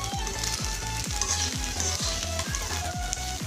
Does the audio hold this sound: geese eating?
no